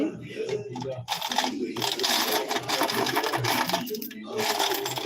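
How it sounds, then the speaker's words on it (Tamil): Old ten-paise and five-paise coins poured out onto a surface make a dense, continuous metallic rattle and clinking that fills most of the stretch, with a voice talking over it. "காசு ஃபுல்லாக இப்போ கீழே தட்டிட்டு நம்ம பார்ப்போமா"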